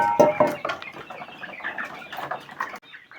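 Chicks and chickens in a hatchery batch give a cluster of close clucks and peeps, loudest at the start and then thinning out into scattered calls, with no talking.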